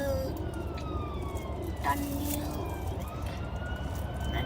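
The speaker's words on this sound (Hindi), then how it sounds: "ये अभी सामने से एम्बुलेंस आ रही है गाइस" Ambulance siren on the road, a steady wailing tone rising and falling as the vehicle approaches, heard against continuous loud road and engine rumble from inside a moving car, with a brief spoken word partway through.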